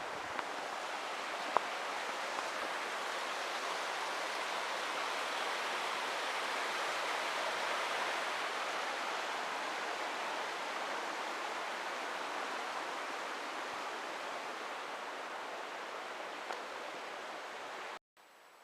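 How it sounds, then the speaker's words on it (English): Steady roaring rush of a mountain waterfall on Grandfather Mountain, loud and unbroken for the whole stretch, cutting off abruptly at the end. "nice bridge and some cool waterfalls"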